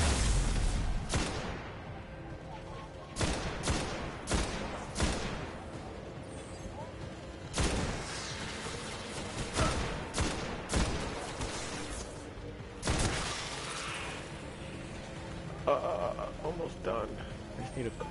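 Scattered gunshots and impacts crack at irregular intervals in the video game Destiny, several sharp bursts spread across a steady game soundscape, with someone talking over them.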